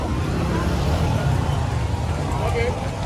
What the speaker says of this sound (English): This is the Duala traffic.